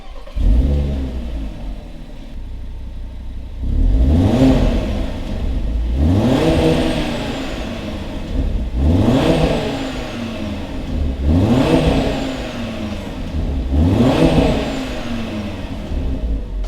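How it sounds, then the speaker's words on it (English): A five-cylinder car engine starts, then revs sharply in repeated bursts roughly every two and a half seconds, each rising and falling, loud and close with no voices. "has that awesome 5-cylinder sound, which we will do a startup of right here"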